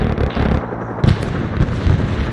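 Gunfire in the military video game Arma 3 rattles through quick bursts of booming shots and cracking impacts, dense and close across a short span without talk.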